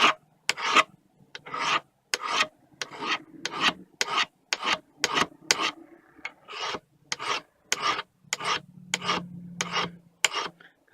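A chisel is rubbed along the edge of a cabinet scraper to burnish it, making about twenty close, brisk rasping strokes in a steady back-and-forth rhythm with brief pauses between them, and no talk.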